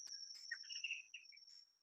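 Recorded crickets in a multimedia garden art installation: a steady, high continuous trill with a few brief overlapping chirps, moderately loud and without speech.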